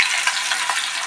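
Chopped onions frying in hot oil with green chillies: a dense, continuous crackling sizzle, close and fairly loud.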